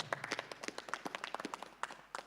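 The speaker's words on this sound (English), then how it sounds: "Can we give them a round of applause?" A round of applause from an audience at a university research ethics training session, a brief stretch of scattered hand claps heard from a distance and fairly faint.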